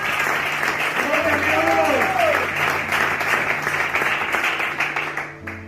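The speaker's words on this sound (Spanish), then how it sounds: "Dale un aplauso a este Cristo que tenemos." Congregation applauding during a Spanish-language church sermon, a broad sustained wash of clapping from many people that tapers off at the end, with a voice speaking over part of it.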